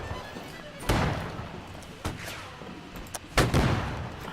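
Cannon fire in the naval battle game Holdfast: Nations At War, with several sharp booming shots spaced across a few seconds over a steady din of background battle noise.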